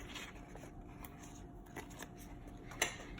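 Scissors snip through a paper budget sticker for an Erin Condren deluxe monthly planner, producing faint, scattered cutting sounds close by with one sharper snip near the end.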